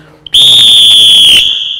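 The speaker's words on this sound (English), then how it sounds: "This is a whistle." A single self-defense whistle blown hard, a loud steady shrill tone held for about a second, then trailing off slightly, alone with no talk.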